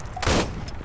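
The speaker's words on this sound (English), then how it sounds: "Got you with the shotgun." A single shotgun blast fires in ArmA 3 combat, one short booming crack in the middle of a brief moment, with a low rumble around it.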